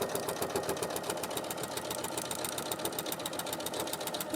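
A sewing machine stitches through many thick quilt layers in a quiet, rapid, even rhythm of mechanical clatter that runs steadily without pause.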